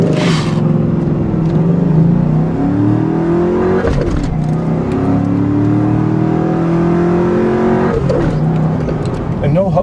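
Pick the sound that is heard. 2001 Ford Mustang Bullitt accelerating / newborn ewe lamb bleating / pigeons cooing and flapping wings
2001 Ford Mustang Bullitt accelerating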